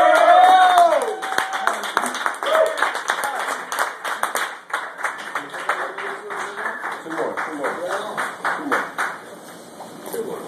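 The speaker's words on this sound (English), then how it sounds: "Thank you for your kind applause." Audience applause after a poem at a reading, a dense wash of many hands clapping at steady loudness that thins toward the end, with voices mixed in at the start.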